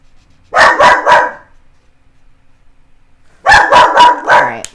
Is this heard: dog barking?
yes